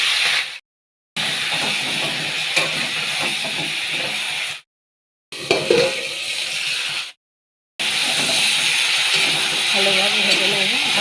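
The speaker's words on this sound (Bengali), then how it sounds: "ওই মাছ ভাজার তেলে দিয়ে দেবো কালো জিরে," Black cumin and green chillies dropped into hot oil left from frying magur fish, sizzling and hissing loudly and steadily up close, broken by a few short silent gaps.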